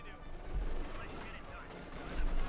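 Heavy fighting in Company of Heroes 2 between Wehrmacht and US forces brings a dense, continuous clatter of rifle and machine-gun fire with distant booms, swelling toward the end.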